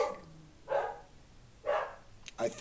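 A dog barks three times at roughly one-second intervals, moderately distant, over a quiet background.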